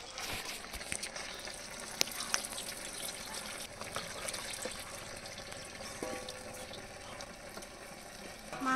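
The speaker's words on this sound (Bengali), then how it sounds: "মাংসগুলো 3-4 বার ধুয়ে নেব।" Pieces of chicken meat are washed in water, with close splashing, sloshing and dripping and occasional sharp clinks of a vessel, moderately quiet and unbroken.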